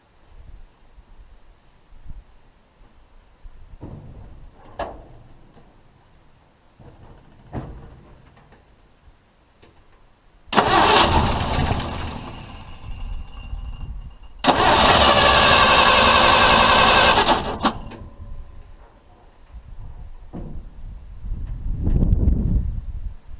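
A car engine cranks over twice during a fuel pump test with a new pump that delivers no fuel. Two loud, sustained bursts of starter churning, about three seconds each, are separated by a brief pause, with quieter clatter before and after.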